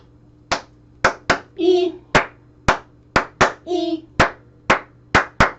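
Eleven sharp hand claps ring out in an uneven rhythm, close and loud, while a voice briefly sings two short notes between them.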